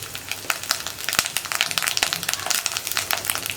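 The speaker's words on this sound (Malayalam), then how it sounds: "അപ്പോൾ നമ്മുടെ കടുക് പൊട്ടി കഴിഞ്ഞുകൊണ്ടിരിക്കുന്നുണ്ട്" Mustard seeds spluttering in hot oil with curry leaves and dried red chillies, a dense run of sharp pops and crackles over a steady sizzle, close and fairly loud, with no talking.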